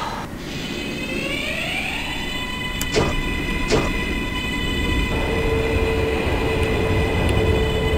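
A simulated NYC subway L train, the BMT 14th Street line, in the OpenBVE game runs fast with a steady loud rumbling roar, whining motor tones and a couple of sharp clicks.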